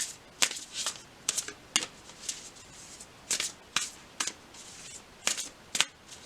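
Tarot cards are shuffled in a quiet room, with crisp, close riffling snaps arriving in irregular quick bursts and short pauses between them.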